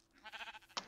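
Sheep bleating in a video game, a short faint bleat near the end after a quieter murmur of game sounds.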